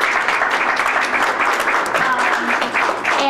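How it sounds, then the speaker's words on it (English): An audience claps warmly and continuously at an art gallery exhibition event, the applause loud and sustained throughout. "If you'll give them a round of applause"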